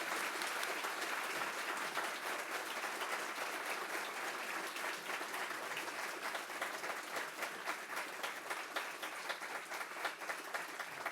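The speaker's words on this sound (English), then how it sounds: "Please join me in giving them a round of applause again." An audience at a university lecture hall gives sustained applause, a dense, steady wash of many hands clapping that continues evenly without a break.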